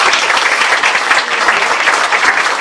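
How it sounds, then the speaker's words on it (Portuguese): Audience at a corporate accounting event clapping together after a count of three, a loud, dense and even round of applause close by. "eu vou contar até 3, vocês vão bater palma"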